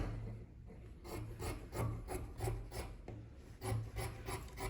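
Fabric being trimmed in a sewing project: a steady run of rasping, rubbing cuts repeating about every half second, close and moderately loud, alone with no talk.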